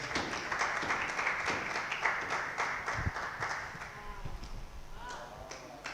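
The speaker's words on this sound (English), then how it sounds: "May we clap our hands when Beira Makene is coming in front of us." An audience at a conference claps for a guest coming forward, a dense, steady patter of many hands at moderate distance that carries on without a break and thins slightly toward the end.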